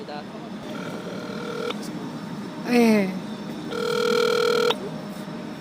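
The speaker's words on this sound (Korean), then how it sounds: "전화 통화를 해보겠습니다" A phone call is placed from a newspaper parking lot in Seoul, with tones sounding in short steady bursts and a sweeping electronic chirp, over low outdoor background noise and a brief spoken word.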